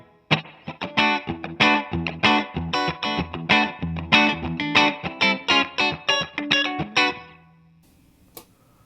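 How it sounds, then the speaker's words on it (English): Electric guitar playing a quick sequence of plucked notes and chords through a reverb pedal, each ringing out with a reverb tail, then the playing stops and a faint pluck follows. "I'm going to start with a little bit of reverb on there"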